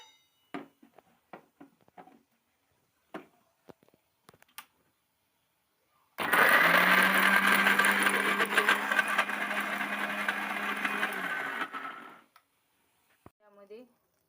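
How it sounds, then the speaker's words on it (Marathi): A kitchen mixer grinder whirs loudly for about six seconds while grinding spice paste, then stops. A few short clicks and knocks come before and after it. "तोपर्यंत हा मसाला मिक्सर मध्ये"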